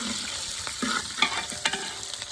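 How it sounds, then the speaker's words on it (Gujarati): Tempering (vaghar) sizzles in a pot outdoors before khichdi is cooked, a steady frying hiss broken by several scraping, clinking strokes of a ladle stirring, close by and without talk. "વઘાર મુકાઈ ગયો છે."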